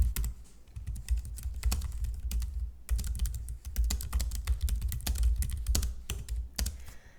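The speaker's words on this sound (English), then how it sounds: "I'm going to type it first so you can try to guess what that means" Typing on a computer keyboard while an Italian sentence is entered, with steady close, rapid clicking keystrokes in irregular bursts and brief pauses, loud and alone with no voices.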